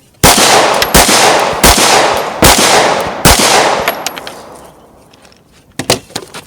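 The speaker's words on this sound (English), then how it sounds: "Now we're going to shoot the P10c and the striker fired at that lower target." Sharp, loud gunshots from a CZ P10c striker-fired pistol at a shooting range, five evenly spaced reports with ringing tails, then a few lighter metallic clinks as the string ends.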